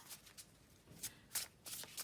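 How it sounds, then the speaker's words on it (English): A deck of oracle cards is shuffled by hand without riffling, soft papery swishes and slides coming in short irregular bursts, close and quiet. "I'm just going to give them a little shuffle and then maybe pull a card for us"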